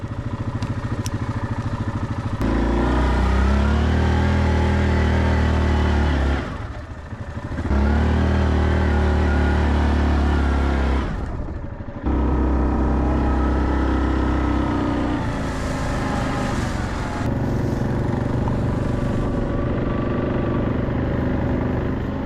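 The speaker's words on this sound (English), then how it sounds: "So we brought the four-wheelers today." Four-wheeler ATV engines rev and ride across rural property, loud and close, with repeated throttle surges and brief drops where the engines ease off before pulling again.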